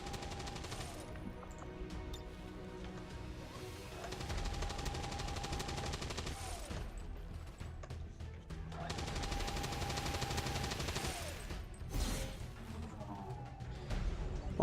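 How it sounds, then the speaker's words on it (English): Suppressing gunfire in the tactical game XCOM 2 with ballistic weapons: sustained rapid automatic bursts, loud and close, in two long volleys separated by a quieter gap, with a sharp crack near the end. "Suppressing fire on target."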